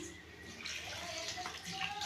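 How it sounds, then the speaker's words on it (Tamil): Water is poured little by little into flour for murukku dough in a kitchen, giving a soft, continuous trickle for about two seconds, quiet and steady, with a faint voice in the background. "கொஞ்சம் கொஞ்சமாக தண்ணி ஊற்றி"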